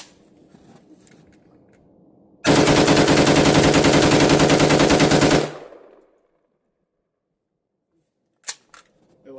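An airsoft Zastava M70 AK-pattern rifle fitted with a Texas Triggers Diablo forced reset trigger rips through a loud, continuous rapid-fire burst lasting about three seconds, then falls silent apart from a few brief clicks afterward.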